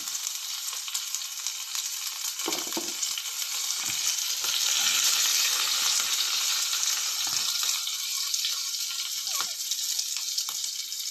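Garlic, ginger and curry leaves sizzle in a hot pan for a mackerel curry, making a bright, continuous frying crackle that swells midway, with occasional stirring clicks and no talking.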